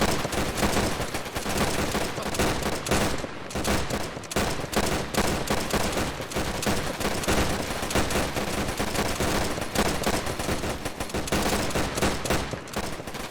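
Squad gunfire in the military shooter Arma, Durham Light Infantry Sicily campaign training: sustained, loud, overlapping rifle and machine-gun bursts blasting continuously in a dense fusillade with scarcely a break.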